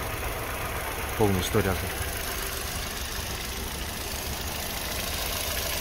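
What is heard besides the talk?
car engine idling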